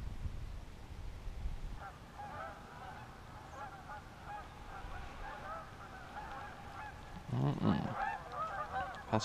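Geese honking on a Pennsylvania reservoir, a steady scatter of calls at middle distance, with a louder burst of honks near the end over faint outdoor background.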